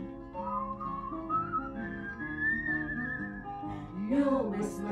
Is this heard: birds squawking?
no